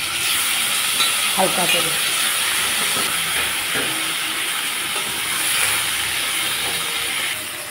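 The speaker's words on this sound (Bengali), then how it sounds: "এখন আমি মাছ ভাজা তেলের উপরে কপি আর আলু কেটে দিচ্ছি" Cauliflower and potato pieces sizzle in oil left over from frying koi fish, a steady loud hiss filling the whole stretch with faint stirring scrapes and a brief spoken word.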